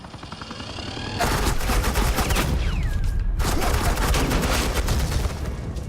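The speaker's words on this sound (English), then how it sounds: "Suppressing fire" Suppressing gunfire in the Batman: The Enemy Within game: loud, dense bursts of rapid automatic fire roll on almost continuously, with a brief lull and a whizzing tone in the middle before the shooting resumes.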